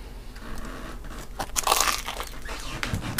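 A bite into bacon mac and cheese packed in a crisp waffle cone gives a short, close crunch, followed by softer chewing sounds at a modest level with no talking.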